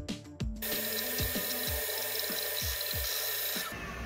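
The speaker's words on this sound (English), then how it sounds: "Then send the sliced part to the printer and there we go." A 3D printer running a marble white PLA tile at high speed lays down filament with a steady mechanical whir, punctuated by rhythmic stepper-motor chirps and clicks, close and alone with no talk.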